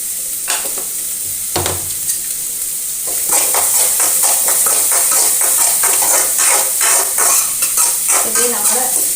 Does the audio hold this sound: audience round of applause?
no